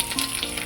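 Green chillies frying in hot oil in a kadai with mustard seeds, cumin and onion, giving a steady, close hiss of sizzling with no talk.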